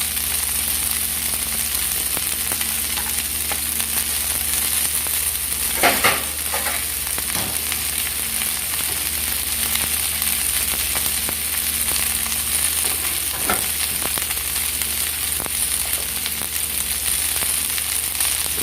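Chopped onions fry in a pan for a dish of okra and bitter gourd, a steady close sizzling hiss with scattered crackles and a couple of brief louder scrapes or stirs, continuous and without speech.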